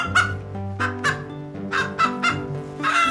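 Hens on a large farm with dairy cows cluck and call in repeated bursts, several birds close by, their squawks rising and falling over a steady background murmur of the flock.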